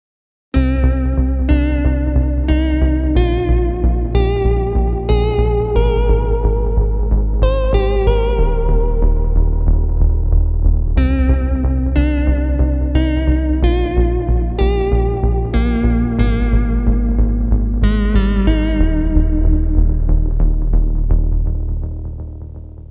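Arturia MatrixBrute analog synthesizer playing overdriven, aggressive tones: a loud, buzzy, distorted line of repeated plucked notes in a steady rhythm, sounding alone without talk until it fades out at the end.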